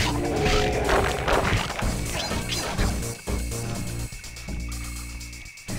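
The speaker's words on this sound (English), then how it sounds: "With the sounds of smashing things." Smashing and breaking of objects in the video game Sly Cooper and the Thievius Raccoonus, a loud cluster of crashes and whacks over the game's music, with a few sharp breaks toward the end.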